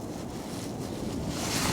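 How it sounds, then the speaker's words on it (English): Steady wind buffeting across a cold beach, a broad continuous rush with mic rumble and faint surf beneath, growing slightly stronger toward the end with no voices. "It's kind of windy and cold today"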